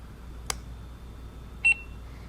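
A small birthday-gift gadget gives out a single short electronic beep after its button is long-pressed, a faint tick coming first, all in a quiet room with no talking.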